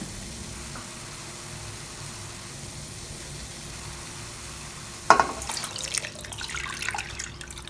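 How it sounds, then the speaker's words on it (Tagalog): Second batch of coconut milk poured into a santol stew, a liquid splash and pour starting suddenly midway and continuing with bubbling and sizzling, after several seconds of quiet kitchen background. "Ibuhusan natin ang pangalawang gata."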